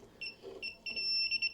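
A Klein Tools 80016 digital breaker finder emitting high electronic beeps that start in short pulses and quicken into a rapid, close beeping.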